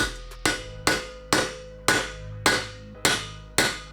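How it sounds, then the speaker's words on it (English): A hammer taps a bearing race into a motorcycle engine adapter eight times at a steady, even pace. Each tap rings sharply and decays quickly, close by, with no talking. "you just take a hammer and tap that thing in."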